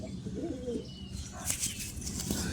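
Pigeons in a loft, newly paired including a silver male, give a low cooing call early on, followed by brief bursts of wing flapping and rustling against steady background noise.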